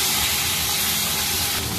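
Split green chillies drop into frying taro in a hot pan, giving a loud, steady, close sizzle that fills the whole moment with dense hiss.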